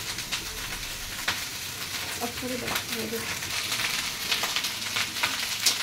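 Rice fries in a pan on a home stove, a steady broadband sizzle with scattered stirring scrapes and clicks, and faint voices in the background.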